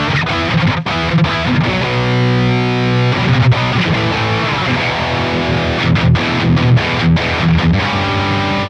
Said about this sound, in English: this amp sounds really nice for high gain stuff.